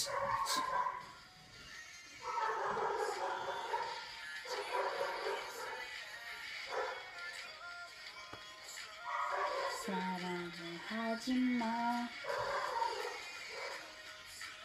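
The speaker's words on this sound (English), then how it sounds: "These dogs need to be quiet." Several dogs barking and yipping off and on, moderately distant, with some whimpering higher yelps in the mix and a low hum of background noise.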